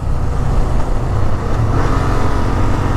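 A motorcycle, either a Honda Transalp 750 or a CB500X, accelerating in second gear, its engine a steady loud roar that holds for several seconds close to the microphone.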